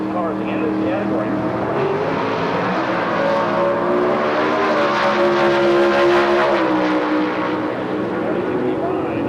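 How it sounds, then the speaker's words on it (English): A 1994 Pontiac Sunbird drag car with a 363 cubic inch Chevrolet small block, running Super Stock modified at a drag strip, roars loudly with a rising, sustained engine note while an announcer talks over it. "Chuck Gallagher, the veteran driver with a 363 cubic inch Chevrolet small block and a 94 Pontiac Sunbird, runs Super Stock A modified"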